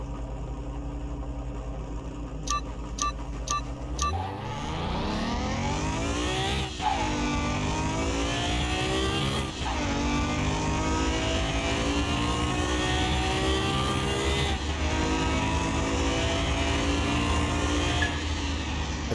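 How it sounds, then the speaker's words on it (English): A car engine in the Car Mechanic Simulator 2021 video game, with a swapped engine, idles with a few clicks, then revs up loudly. It holds a sustained, wavering roar that rises and dips in pitch several times, with no voices. "I feel like this car has the same engine sound, even though we did put a different engine into it."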